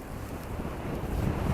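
Strong crosswind gusting over a mountainside in New Zealand, a low, steady roar of wind buffeting the microphone that swells slightly toward the end.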